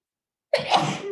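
A single sharp sneeze bursts out after a moment of silence, close and loud.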